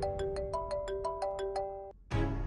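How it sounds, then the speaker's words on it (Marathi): A mobile phone rings at home with a repeating melodic ringtone of evenly spaced tones, clear and fairly close, stopping abruptly before a louder sound cuts in. "फोन वाजतोय तुझा"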